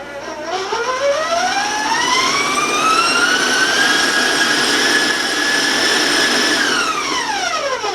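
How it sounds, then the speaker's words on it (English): Electric stand mixer whirring at a higher speed while beating cookie dough, a steady loud motor whine that rises in pitch as it spins up, holds, then begins to wind down, with no talk over it. "I'm going to turn up the mixer a little so it's going to be loud"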